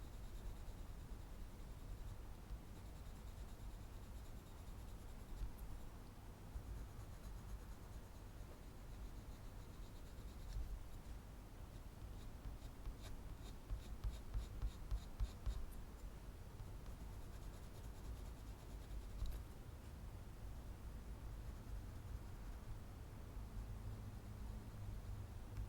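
Colored pencil drawing on paper, a faint, steady scratch of black pencil strokes with soft rhythmic bursts of quicker hatching, close and quiet with no talk.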